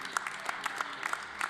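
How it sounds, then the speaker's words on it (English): Spectators at a junior women's 10m air rifle team competition clap along in a steady rhythm, a moderately quiet, even patter of hand claps from a crowd. "Nice to see the crowd clapping along, providing some atmosphere for us"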